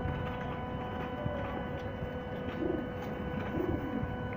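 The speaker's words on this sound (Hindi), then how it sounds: "ये ओरिजिनल कबूतर है" An original-breed pigeon coos softly, two low rounded calls over a steady hum of background noise, fairly faint and with no talking.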